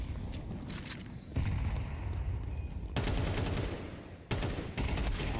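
Pistol gunfire in a Counter-Strike match at IEM Cologne Major 2026, between NAVI and Spirit, with dense, overlapping volleys of sharp shots that swell and drop in bursts over a constant busy game background.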